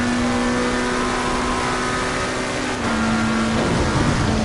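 Steady engine drone of a racing car in Assetto Corsa while chasing a Lamborghini, a sustained tone that dips slightly as the driver lifts off the throttle, continuous and close with no talking.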